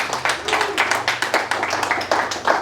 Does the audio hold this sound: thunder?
no